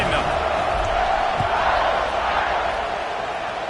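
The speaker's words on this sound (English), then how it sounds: "this crowd now ready to get behind them" A stadium crowd roars at kickoff in a college football video game, a broad, sustained wash of cheering that fades slightly toward the end, with a commentator's voice faintly mixed in.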